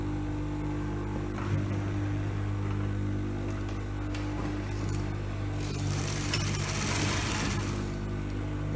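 A sewing machine stitching a senator trouser runs with a steady, droning motor hum and a brighter whirring rise late on, close and continuous with no talking.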